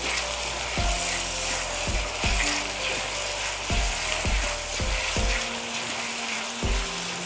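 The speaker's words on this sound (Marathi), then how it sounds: "बारीक चिरलेला टोमॅटो टाकून घ्यायचा आणि तेलावरती ना छान भाजून घ्यायचं" Finely chopped tomato and ginger garlic paste fry in hot oil with a loud steady sizzle, while a rhythmic series of mechanical clicks or knocks repeats roughly every second underneath.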